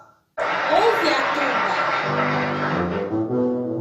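A tuba plays a sustained low, brassy note that swells in abruptly and holds for a few seconds, with the pitch settling into steady low tones toward the end.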